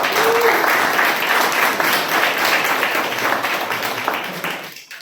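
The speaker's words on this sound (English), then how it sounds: "Can we have a huge round of applause?" Dense, steady applause from an audience at a Toastmasters club meeting, filling the room continuously before tapering off near the end, with a faint voice briefly under it.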